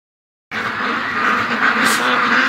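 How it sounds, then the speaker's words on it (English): A flock of ducks being raised for charity quack together in a steady, dense chorus after a brief silence, fairly close and continuous, with a small flurry of sharper calls near the end. "the ducks are going in tonight"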